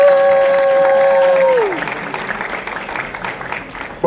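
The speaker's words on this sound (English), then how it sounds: "So let's give Bruce Marks, CEO of NACA, a round of applause." Applause from an event audience in Richmond for the CEO of NACA, following a sustained tone at the start; the clapping is moderately loud and steady for a few seconds.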